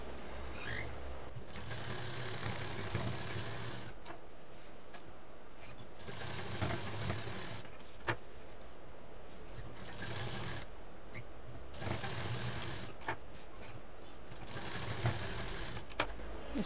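A sewing machine stitches a belt with piping onto a patchwork shoulder bag, giving a continuous faint mechanical whir that holds steady throughout, with occasional small clicks.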